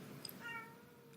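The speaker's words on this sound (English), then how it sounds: "If you hear meowing," A pet cat gives a single short meow, fairly faint, against quiet room background.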